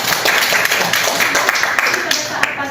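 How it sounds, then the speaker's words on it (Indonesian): A lecture audience clapping hands together in a dense, continuous patter, with some voices mixed in. "Tepuk tangan dulu."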